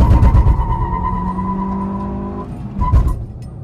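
A Maruti Ignis launching hard in a drag race against a Hyundai Creta, a loud close engine roar rising in pitch through the gears, with tyre noise and a brief shift break near the end.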